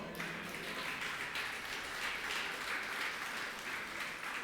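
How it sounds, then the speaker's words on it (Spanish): Church congregation applauding during a Spanish-language sermon: a steady, dense wash of clapping throughout, moderately distant and even in level, with no speech over it. "Dale un aplauso al Señor."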